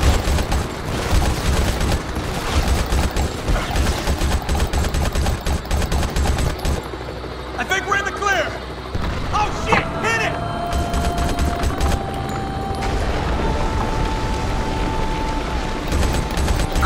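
Sustained gunfire and explosions in the Modern Combat video game, with rapid bursts layered with shouting voices and a brief lull before the shooting resumes.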